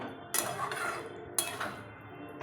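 Paneer being stirred in a pan for a mixed vegetable dish, with two distinct metal utensil scrapes against the pan over a quiet background and no talking.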